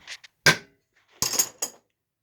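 A hammer taps a crankshaft from a Mopar 360 engine, giving short, dull knocks without lasting ring, spaced irregularly in near silence with faint metallic clinks between them.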